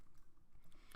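Light typing on a computer keyboard set on a slightly elevated platform, a few soft close clicks and taps over quiet background, no voices.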